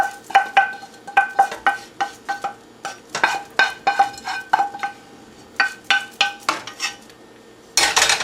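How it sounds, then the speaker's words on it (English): Sofrito goes into a pot of Colombian-style beans with a quick run of sharp metallic clinks and scrapes of a spoon against the pot, rhythmic and close, ending in a louder burst of sizzle or shuffle. "This is the stage where we're gonna add our sofrito. We're gonna add all of it inside."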